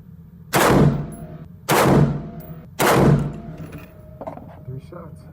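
Three loud, sharp rifle shots from a Black Rain Ordnance Fallout 15 fired off a bipod at an outdoor range, evenly spaced about a second apart, each with a booming tail, followed by faint handling noise.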